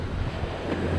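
Strong swell waves roll in at a seaside fishing spot, a dense rumbling wash of surf mixed with gusty wind buffeting the microphone, continuous and close.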